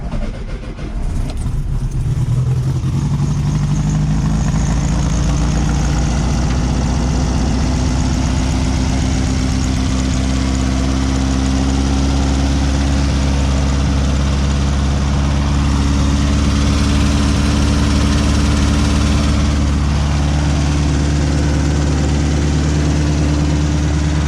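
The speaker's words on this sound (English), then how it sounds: "we'll give her a nice cold start and go for a drive" A VW Beetle engine idles after a cold start, a loud, steady low rumble that settles in within the first second or two and runs unbroken and close-up throughout, with no talking.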